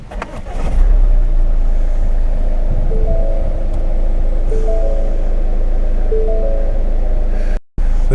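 A Ford Mondeo fires up during an oil service: a brief cranking burst catches into a loud, steady engine idle that holds close and constant until a sudden cutoff near the end.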